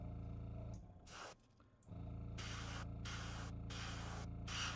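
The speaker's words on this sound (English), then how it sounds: "I'm spraying at an angle to specifically catch these little highlights" An airbrush or spray can hissing in several short bursts as zenithal highlights are sprayed at an angle onto a miniature figure, each burst lasting about half a second, over a low steady hum.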